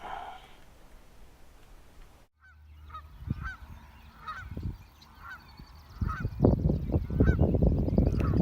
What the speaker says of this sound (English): Geese hanging out.